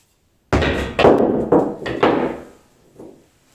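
A 2 kg hammer dropped from about one and a half metres onto a GTM safety boot lands with a heavy thud, followed by several quick rebounding knocks and a smaller final bump.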